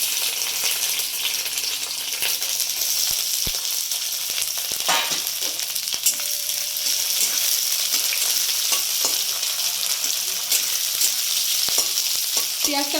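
Onion added to hot oil in a wok with a dried red chilli, frying for a fish-paste dish, gives a loud, steady, close sizzle with occasional stirring scrapes throughout. No one talks.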